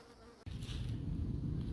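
Honeybees from a freshly hived swarm buzz around their new hive outdoors, a dense, steady drone that swells suddenly and continues close by with no voices.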